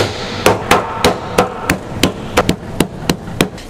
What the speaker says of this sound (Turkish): Şimdi bunu döverek hem kıyma haline getireceğiz